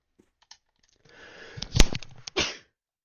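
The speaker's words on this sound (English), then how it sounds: "I am sneezing." A single sneeze erupts in a quiet room, preceded by a few faint clicks and breathy build-up, with a short sharp follow-up sound just after.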